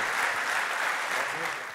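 Audience applause at a startup conference in Uzbekistan as a speaker is called to the stage: dense, steady clapping from a large crowd, close and loud, continuing throughout without a break.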